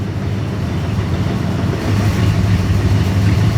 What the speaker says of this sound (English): It's idling, it's running.